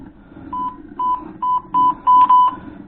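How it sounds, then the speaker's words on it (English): An ice fishing tip-up radio alarm beeps after the flag pops up, giving a series of short electronic tones that come faster and longer in a quickening rhythm, loud and close over a low background hum. "my flag popped up and you can hear the radios going off"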